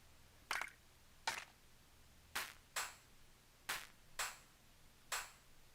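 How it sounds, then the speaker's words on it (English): Seven separate artificial drum machine clap samples hit one after another at uneven intervals, each a crisp bright snap with a short decay, heard alone with no talk. "these sound like drum machine artificial claps"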